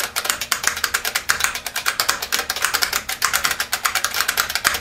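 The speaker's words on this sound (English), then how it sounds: "Clickety-clacketing away." Continuous fast typing on a loud IBM Model F mechanical keyboard, a steady stream of sharp, close clicks without pause.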